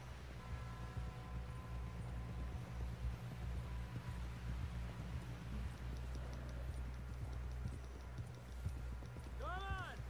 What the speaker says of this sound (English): Someone help John on down off this horse